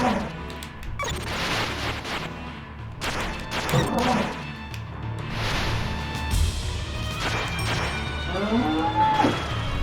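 Bull-headed axe-wielding enemy in the video game Castlevania: Rondo of Blood, heard as repeated low mooing bellows mixed with heavy smashing and thwacking hits, loud and close, with no talking.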